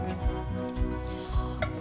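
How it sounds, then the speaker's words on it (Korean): Knife finely slicing onion on a cutting board: four soft, rhythmic cuts spaced about half a second apart, heard over a steady background hum. "양파 곱게 채 썰어요"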